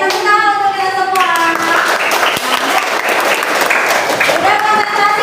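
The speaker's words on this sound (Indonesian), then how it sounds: "tepuk tangan untuk kita semua" A classroom of students claps together for themselves, a dense steady round of applause lasting several seconds, with children's voices and a teacher's speech audible over the clapping.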